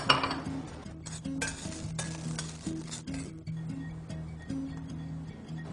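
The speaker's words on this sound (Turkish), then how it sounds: "tavamıza bir miktar sıvı yağ ilave ettikten sonra çam fıstıklarımızı tavamıza koyuyoruz" Pine nuts frying in oil in a pan, a soft sizzle underneath light stirring and clinks of a utensil against the pan, with steady low kitchen hum.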